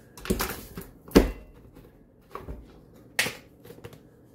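Pepper being ground by hand over a cut of London broil beef, giving several short, dry crunching bursts with brief pauses between them, close and fairly quiet, with no talk.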